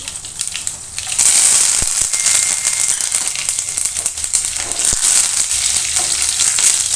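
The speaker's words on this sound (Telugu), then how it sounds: "ఇప్పుడు ఎండుమిర్చి కరివేపాకు వేసాము" Dried red chillies, curry leaves and garlic fry in hot oil for a village-style brinjal chutney, giving a loud, steady sizzle with crackling pops throughout and no talk.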